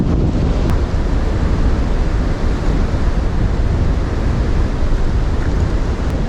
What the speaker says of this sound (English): It's starting to get really windy out here.